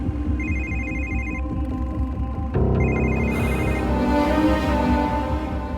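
A telephone rings over and over in repeated electronic trills, loud and close. Partway through, a busier tone layers over it against a background of music and room sound.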